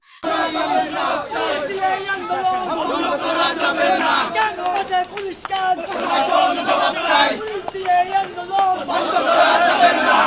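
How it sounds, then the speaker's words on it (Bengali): Students at a college campus chant protest slogans in unison, a loud, continuous crowd of voices rising and falling in rhythmic bursts, with shouting and babble filling the space throughout. "ক্যাম্পাসে পুলিশ কেন প্রশাসন জবাব চাই আমাদের ক্যাম্পাস আমরাই থাকবো ইত্যাদি স্লোগান দিচ্ছেন"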